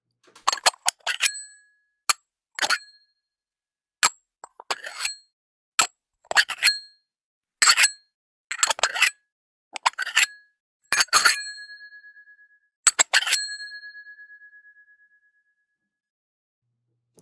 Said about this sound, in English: metal container, lid opening and closing multiple times, scraping one item